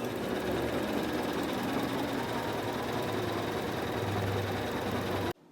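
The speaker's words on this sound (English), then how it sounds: "So Intelliquilter is stitching up to my no-sew zone" An Intelliquilter computerized longarm quilting machine stitches steadily, a dense continuous mechanical hum and whir that cuts off abruptly at the end.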